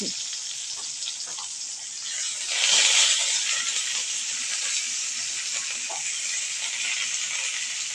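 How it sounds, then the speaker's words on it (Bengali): Lentil fritters go one by one into hot mustard oil in a frying pan, making a steady, loud sizzling hiss that swells briefly and then keeps going. "এবার সামান্য সরিষার তেল দিয়ে দিচ্ছি এবার একে একে বড়াগুলো দিয়ে দিচ্ছি"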